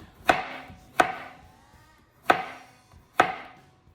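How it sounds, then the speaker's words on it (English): A knife chops through firm squash on a cutting board, four sharp separate thuds spaced unevenly, close and clear with no talking. "I'm just gonna chop it like so."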